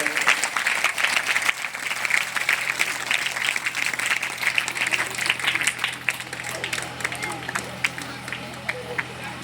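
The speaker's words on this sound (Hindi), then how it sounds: "ताली बजा के आप लोग स्वागत करेंगे" Audience at a devotional gathering claps in welcome for an invited speaker, a steady, dense burst of applause lasting throughout, with crowd murmur mixed in.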